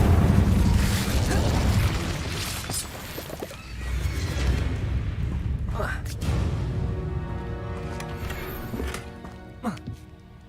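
In the video game Hogwarts Legacy the Incendio fire spell is cast, giving loud bursts and booming whooshes of flame amid busy combat effects and game music, with a voice speaking over them.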